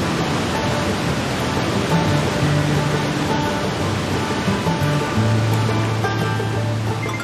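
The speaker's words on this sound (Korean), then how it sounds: "성난 파도처럼 황토빛 토사를 쏟아내며 거칠게 흐르는 급류." Raging muddy rapids at Khone Phapheng waterfall in Si Phan Don, Laos, swollen in the rainy season, roar as a dense, steady wall of rushing water that stays loud and unbroken throughout.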